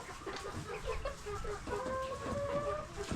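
A rooster clucks and murmurs nearby in a series of soft, throaty calls, with quiet farmyard ambience around it.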